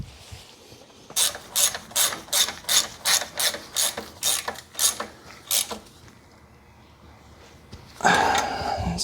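A hand ratchet clicks in a dozen quick, even strokes while snugging a 12 millimeter bolt during a B-series transmission install on an EG Honda Civic, close and clear, followed by a brief louder clatter.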